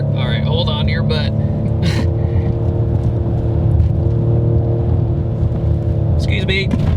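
A 2019 Ford Edge ST, all-wheel drive, revs hard under acceleration, a loud steady engine drone and rumble with the revs hanging, heard from inside the cabin with a voice talking over it.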